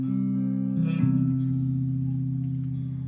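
Sustained electric guitar notes ring out through a Strymon Iridium amp-modeler pedal, a low chord shifting partway through and holding with a faint pick attack.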